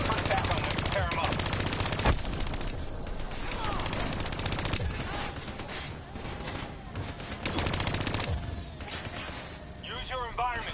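Hijacked turrets in Black Ops 3 pour out sustained rapid machine-gun fire, loud and continuous, layered with scattered gunshots and mechanical clatter while a voice talks over the barrage.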